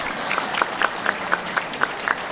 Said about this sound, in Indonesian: ayo tepuk tangan yang niat ya